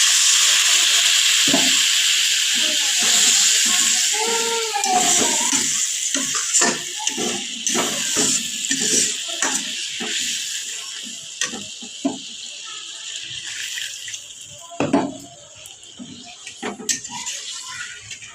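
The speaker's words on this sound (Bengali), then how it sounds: "এবার পরিমাণ মতো জল দিয়ে দেবো।" Water poured into fried masala for a fish curry sizzles and hisses loudly in the pan, a steady steamy crackle with scattered clinks and scrapes of cooking, easing off toward the end.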